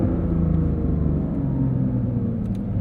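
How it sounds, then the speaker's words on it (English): A 2023 Porsche 911 Dakar's engine rumbles steadily from inside the cabin, a low droning growl holding without clear gaps or pops through the whole stretch. "I just like downshifting it."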